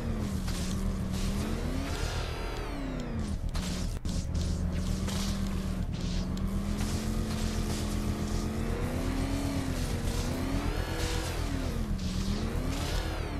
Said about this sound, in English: you have to rev the engine with R2